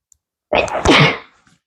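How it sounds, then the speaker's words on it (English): One loud, close sneeze bursts out sharply and fades within about a second, with quiet before and after. "I have to sneeze."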